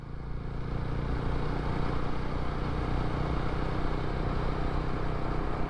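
A Jawa 42 FJ bobber motorcycle ridden on a long road trip toward the Edakkal Caves in Kerala, heard as a steady, continuous engine drone with low rumble and wind noise throughout, fairly loud and without talk.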